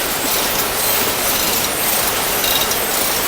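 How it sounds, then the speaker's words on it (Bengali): A factory machine cuts plastic mats with a loud, constant mechanical clatter and rattling hiss, steady and close with no pauses or voices. "আর এই মেশিনে সেটা কাটতেছে"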